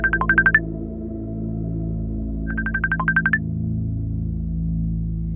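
Telephone call sound effect: two short bursts of electronic ringing tones separated by a pause, clear over a low steady background hum.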